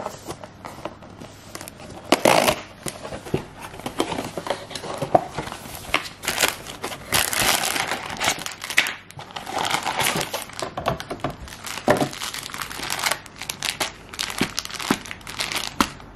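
Plastic packaging of a MUJI gingerbread house kit being opened, with loud, close crinkling and crackling rustles that run almost continuously in uneven bursts.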